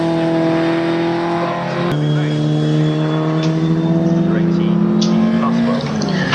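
Historic Formula Ford 2000 race cars at Snetterton circuit drone steadily with a close, loud engine note that shifts pitch as they head for a corner, while a commentator talks over the racing throughout.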